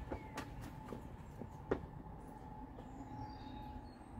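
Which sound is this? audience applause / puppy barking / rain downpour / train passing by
train passing by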